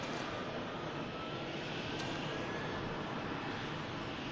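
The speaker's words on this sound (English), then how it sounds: "Lufthansa Airbus A321 just beginning their roll on runway 23 left at the moment" A Lufthansa Airbus A321 begins its takeoff roll on runway 23 left at Manchester Airport. A steady, distant broadband jet roar holds at an even level throughout.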